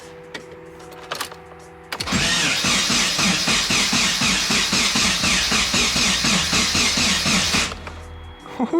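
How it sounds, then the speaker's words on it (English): A Nissan 240SX engine cranks after sitting ten months, a loud rhythmic whirring starter churn pulsing evenly for about six seconds, then stopping without catching, with a few clicks before it. "We're gonna try and crank it right now and see what happens."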